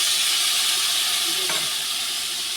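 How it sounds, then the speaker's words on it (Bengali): Spice paste for a tilapia fish curry frying in a pan, giving a steady, close sizzle with a brief stir near the middle and no voices. "মশলাটা কষিয়ে নেবে ভালো করে"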